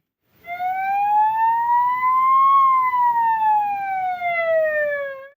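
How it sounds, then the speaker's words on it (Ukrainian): An ambulance siren wails loud and clear for about five seconds, its tone sweeping up and then sliding back down in a single long cycle, with no talk over it. "Сирена гуде, пропускають усі авто"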